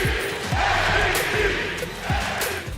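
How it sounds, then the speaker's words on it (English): Basketball arena crowd roaring during the 2021 NBA playoffs, a loud, dense mass of cheering and yelling with surging peaks, heard up close with no commentary over it. "Oh, listen to the crowd."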